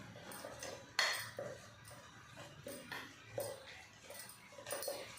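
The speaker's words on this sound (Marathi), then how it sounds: "दही मिक्स करून घ्या।" A spoon mixes curd into a beetroot salad in a bowl, giving soft, faint stirring with a few light metallic clinks and taps spaced out over several seconds in a quiet room.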